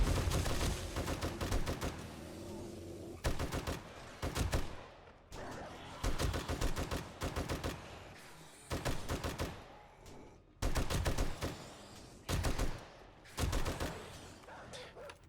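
An M60 machine gun fires in the 7 Days to Die video game in repeated loud bursts of rapid automatic shots, separated by short quiet gaps, with no talk.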